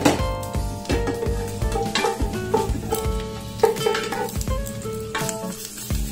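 Garlic fries in a pan, sizzling loudly throughout. A utensil stirs and scrapes against the pan in repeated clattering strokes, with no voices.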